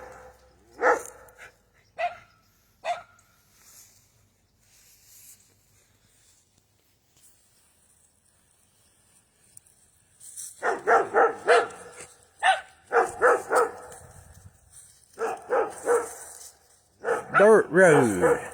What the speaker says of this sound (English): Dogs out here running around.